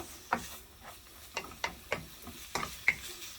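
Ground beef fries in a pan for spaghetti bolognese, a soft sizzle broken by a series of quiet scraping stirs spaced about every half second, faint and close with no talking.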